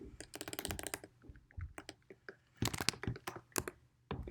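Brisk computer keyboard typing in short bursts of clicking keystrokes, close and crisp, with pauses between runs of keys while entering names and IDs into a school database search.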